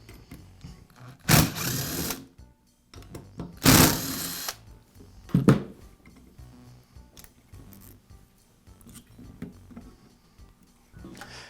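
A power driver backs out the ignition coil screws on a Troy-Bilt string trimmer, two loud bursts of whirring followed by a shorter one, then quieter clicks and handling noises.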